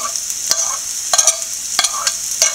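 Grated coconut, green chili and shallots are sautéed in a pan. A steady soft sizzle runs throughout, broken by several scraping stirs of the spoon against the pan.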